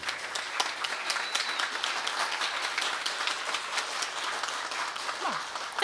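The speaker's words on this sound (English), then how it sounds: "That was a nice round of applause" A graduation ceremony audience at a law school gives a steady round of applause, dense clapping sustained evenly throughout at moderate distance, with no voices standing out.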